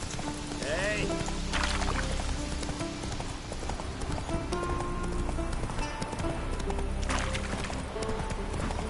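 Hooves of Roach, a horse in The Witcher 3: Wild Hunt, clip-clop at a run among game music and ambience, with a brief whinny and a voice talking over it.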